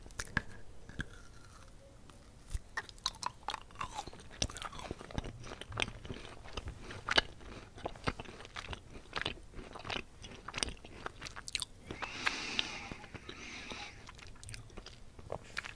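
Close, quiet crunching and chewing of dried mango and papaya pieces, with irregular crisp bites and soft moist mouth sounds continuing steadily without speech.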